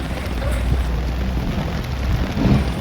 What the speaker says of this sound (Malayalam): നല്ല മഴയായിരുന്നു ബോട്ട് ഇറക്കുന്ന ദിവസമായിട്ട്